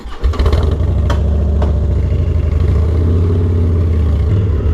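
A Harley-Davidson Dyna motorcycle engine starts up close, then settles into a loud, deep, lumpy idle that holds steady throughout.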